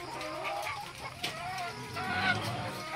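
A flock of layer chickens, RTL hens, clucks busily while eating feed on a morning farm, a dense continuous chorus of overlapping clucks and calls, close and steady.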